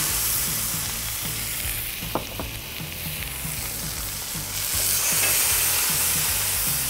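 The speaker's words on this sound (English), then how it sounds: "Now we're gonna get our steaks down." Steaks searing in a hot pan coated with avocado oil for steak au poivre, a loud, dense, continuous sizzle close by, with a couple of faint knocks partway and a swell in intensity near the end.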